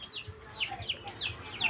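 Backyard chickens cluck in a repeated rhythmic series of short, fairly close calls over a faint outdoor background, with no talking.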